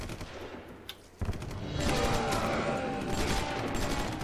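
A short pop, then a sustained burst of rapid gunfire in the video game DeathSpank that keeps rattling loudly to the end, with no talking over it.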